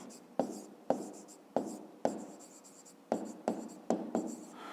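Pen or pencil writing out a long row of multiplication factors on paper for a fifth-grade maths exercise, with nine or ten distinct scratchy strokes, close and fairly quiet, and no voices.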